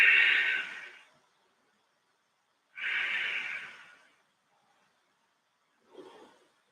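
Slow yoga breaths during a core-engaged hold, two strong airy exhalations a couple of seconds apart followed by a softer third, close and clear against silence.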